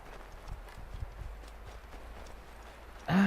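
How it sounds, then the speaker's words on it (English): Horse hooves clip-clopping at a steady walking rhythm in the video game Assassin's Creed 3 Remastered, soft and low, ending with a brief louder burst. "Wait, do we have a horse? Oh, we do."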